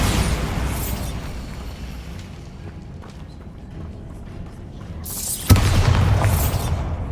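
Spell blasts from a Bombarda curse in Hogwarts Legacy on Xbox Series X, a booming burst at the start that rumbles away, then a second sharp, loud explosion near the end with a dense low roar.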